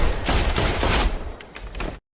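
Rapid gunfire from a film scene, a loud dense burst of shots running continuously for about two seconds before cutting off.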